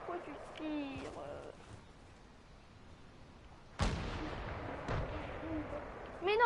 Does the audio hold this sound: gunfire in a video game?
yes